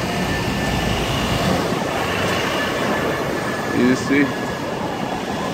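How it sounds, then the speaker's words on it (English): A 42nd Street subway shuttle train rumbles through a tunnel below a building, a steady low roar with faint wheel squeal and clicks under brief nearby speech. "And those trains are right below this building."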